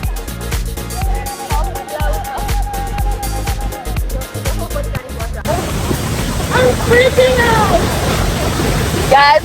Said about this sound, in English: we're so close to the waterfall, so the boat actually brings us